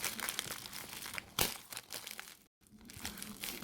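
Casio MTP-VD01L-7BVUDF watch packaging being cut open: plastic and paper crinkle and tear up close in a busy, rustling stream, with a sharp crunch midway and a brief silent gap before the handling resumes.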